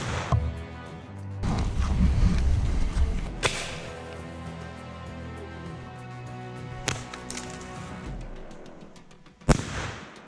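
An Igla airsoft grenade launcher fires outdoors on a range: a sharp loud blast with a rumbling tail, then further sharp cracks and thuds spaced several seconds apart.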